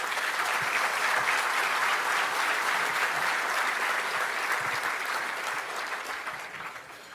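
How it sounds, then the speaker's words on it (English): Steady, close applause from an awards-ceremony audience at the LEO Awards, sustained throughout and easing slightly at the end, with no talk over it. "please give a round of applause to these great people"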